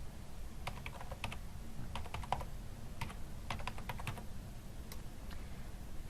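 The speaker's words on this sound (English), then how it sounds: "I'm going to type in the number." Someone types a phone number on a computer keyboard in a quiet room, with quick irregular bursts of soft key clicks separated by short pauses.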